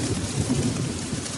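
Rain and thunder in an animated story: a steady, dense hiss of rainfall with a low rumble underneath, continuous throughout.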